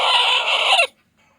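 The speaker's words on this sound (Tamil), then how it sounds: "இது ஒரு அடக்கோழி" A brooding country hen, a black hen sitting on her nest, gives one loud, sustained agitated cluck that stops abruptly, leaving near-silence.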